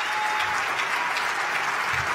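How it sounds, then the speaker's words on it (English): A large audience at a J Street keynote speech applauds steadily, a dense sustained wash of clapping throughout with no speech over it. "Refugees deserve your applaud."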